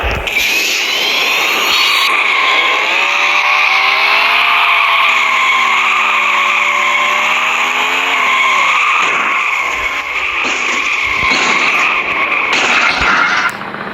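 Loud, sustained engine roar of a Lamborghini Urus revving in a video game, pitch sliding up and down, with a high whine layered over it; no talking.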